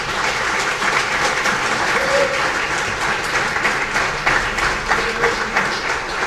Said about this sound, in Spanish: Le ofrecemos unas palmas a nuestro Dios.